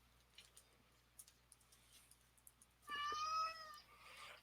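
A cat meows in a drawn-out, wavering call close by, following a few seconds of quiet room tone with faint small clicks.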